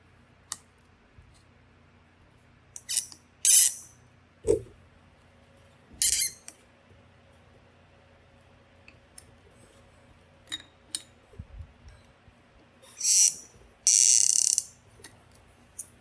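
A 2.5 mm Allen key loosens and retightens the screen mount on a Zen Wave/Photon e-bike, giving scattered light metallic clicks and brief scraping bursts with quiet gaps between them.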